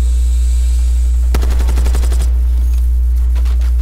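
Pistol fire in Call of Duty Black Ops 6 during a Moshpit match on the Skyline map: a loud, rapid burst of close shots lasting about a second, with fainter follow-up reports over a steady low hum.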